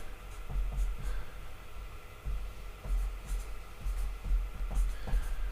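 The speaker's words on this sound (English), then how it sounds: "I can write a note." A pen writing a note on a piece of paper under an overhead camera, giving soft repeated scratching strokes in short bursts over low room hum, close and fairly quiet with no talking.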